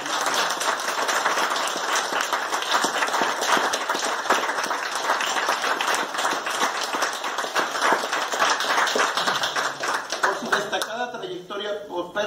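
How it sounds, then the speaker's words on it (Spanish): Sustained audience applause at a posthumous tribute ceremony for an Oaxacan jurist, steady dense clapping throughout before thinning toward the end, with voices mixed in. "familiares y amigos un fuerte aplauso"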